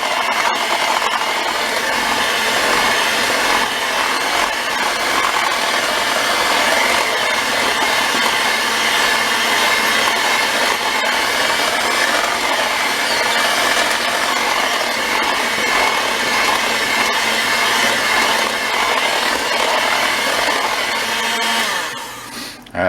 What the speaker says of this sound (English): Doesn't take that long with a mixer.